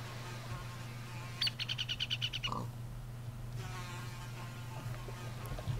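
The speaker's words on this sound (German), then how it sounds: "Und das ist eine Biene." A Minecraft bee gives a rapid buzzing drone with pulsing wingbeats, fairly close, over a steady low ambient hum and faint birdlike chirps.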